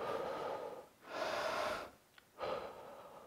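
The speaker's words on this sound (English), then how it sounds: "So let's breathe." Deep breathing during a home workout: two long, loud inhales through the nose with a brief pause between, sounding close and breathy, with no talking.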